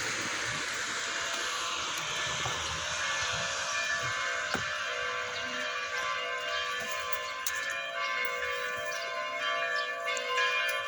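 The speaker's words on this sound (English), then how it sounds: "The church bells, there's the church." Church bells ring steadily in Rimini near the Arch of Augustus on a rainy day, a sustained bright peal that carries through the whole stretch over a constant wash of street ambience.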